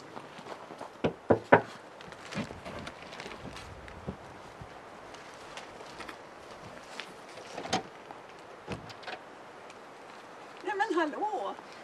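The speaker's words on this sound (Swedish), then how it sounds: "Och nu ska vi gå bort och knacka på." Knuckles rap on the front door of a home during a surprise visit to a Swedish heritage medal recipient: three quick, close knocks early on, then quiet outdoor ambience with faint footsteps and a brief burst of voices near the end.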